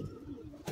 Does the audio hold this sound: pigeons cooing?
yes